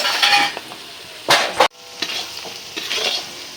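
Crushed garlic goes into onions frying in oil, followed by a sharp burst of sizzle and a spoon scraping and clinking against the pan, all close, with no talking.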